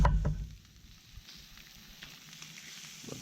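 Cracked eggs sizzling on a cooking disc at medium heat, a soft continuous crackle following a couple of brief knocks at the start, close and fairly quiet.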